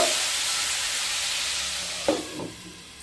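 Spice masala sautéing in a pan with a splash of water gives a steady broad sizzle, with a couple of soft stirring scrapes near the end and no talking.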